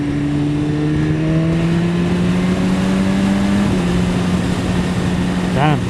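A 2015 BMW S1000RR superbike's inline-four engine hums steadily and loud at cruising speed with a rushing wind roar. The pitch stays smooth and slowly shifts, dipping briefly near the end.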